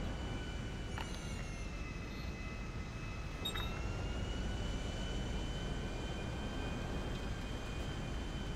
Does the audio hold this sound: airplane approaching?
yes